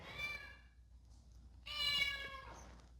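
A pet cat meows twice indoors, each call a clear drawn-out cry at moderate distance, separated by a short pause, with no talking over it.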